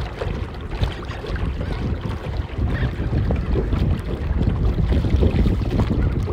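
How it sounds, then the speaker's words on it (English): A rowing eight out on the water at a masters regatta, with a strong crosswind buffeting the microphone in a loud, gusty rumble and water sloshing against the hull, with no one talking. "Nasty crosswind."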